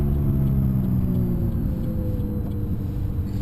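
A McLaren 570S engine in second gear is slowing down, its loud, close rumble falling steadily in pitch as the revs drop.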